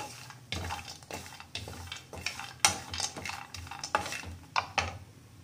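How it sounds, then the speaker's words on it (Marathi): Peanuts and coconut dry-roasting in a pan, stirred with a metal spoon that scrapes and taps the pan in quick irregular strokes, fairly quiet and close, with no talk. "आणि याला छान रोस्ट होऊ द्यायचं, छान भाजून घ्यायचं."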